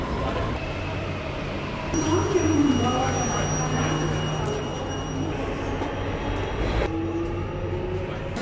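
Riding an MRT train in Singapore, a steady loud rumble of the carriage with faint whining tones and a brief rising squeal from the wheels, continuous throughout.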